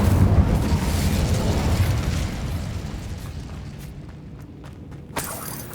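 A fiery blast from the Incendio fire spell cast in Hogwarts Legacy, a loud whooshing burst up front that rumbles and fades away over several seconds, ending with a small sharp pop.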